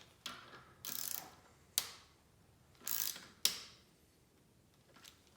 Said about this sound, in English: take your torque wrench and torque that to about 7 Newton meters